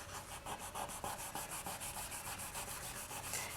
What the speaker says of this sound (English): So I'm being very specific where I sand.